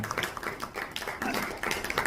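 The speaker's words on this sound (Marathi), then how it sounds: "जोरदार टाळ्या झाल्या पाहिजेत या आपल्या लाडक्या जोडीसाठी" An audience claps for a newly introduced couple at a wedding-style TV show event, a fairly faint, uneven patter of hand claps continuing throughout with brief dips.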